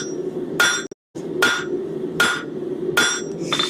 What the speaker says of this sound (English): so you guys can see my hammer blows